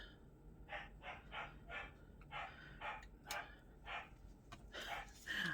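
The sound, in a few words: dog barking at birds or a squirrel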